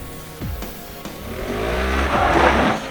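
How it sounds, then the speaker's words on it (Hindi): A Ford EcoSport stuck in snow revs hard as its tires spin, the engine climbing in pitch again and again while a rising whine and hiss build up, close and loud, with no talking. "फिर टायर घूम रहा है, घूम जा रहा है।"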